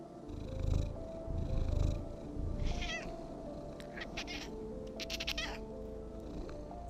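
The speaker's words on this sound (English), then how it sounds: "Needed to hear you purr again." A cat in the horror video game Creepy Shift purrs and meows with rising, wavering cries, set against a low ambient drone and soft game sounds; no one speaks.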